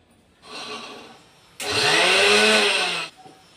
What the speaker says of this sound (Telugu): ఇప్పుడు దీన్ని మిక్సీ పట్టుకుందాం